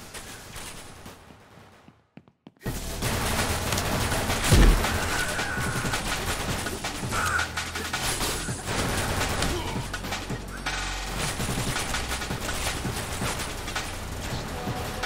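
Rapid, dense gunfire from the shooter game Severed Steel, loud and continuous with mechanical clatter and one heavy thump, after a brief quiet gap at the start.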